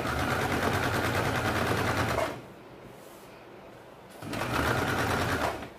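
Sewing machine running fast, stitching a round buckram-backed kurti neckline in two bursts with a short pause between; steady dense rattling, close and loud.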